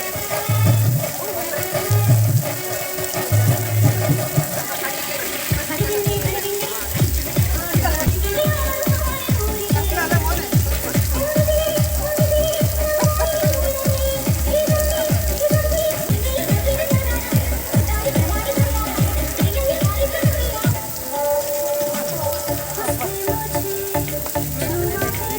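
Artificial rain water pours down at a water park, a steady broadband hiss and spatter with rhythmic pulsing and tonal music-like sounds over it; people's voices are mixed in.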